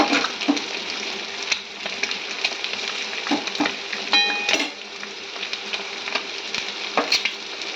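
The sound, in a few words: peanuts frying in a pan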